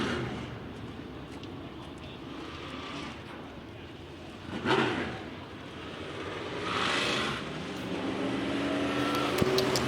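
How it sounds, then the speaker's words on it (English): Race cars of a dirt-track racing heat rolling out onto the racetrack, a steady engine roar with a couple of louder swells as cars pass nearby, continuous for the whole stretch. "Heat 2 rolling out on the racetrack next"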